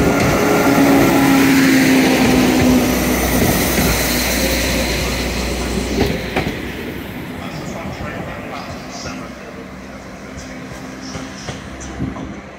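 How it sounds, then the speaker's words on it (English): A Transport for Wales class 197 diesel unit pulls out of Manchester Piccadilly heading for Carmarthen, its engine loud and close at first with a rising whine, then fading as it draws away. "a Transport for Wales class 197 is leaving"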